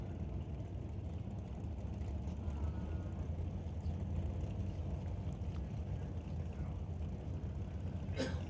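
A Dodge drag racing car's engine at an NHRA Super Pro race rumbles low and steady, heard from a distance as a continuous drone with no clear revving.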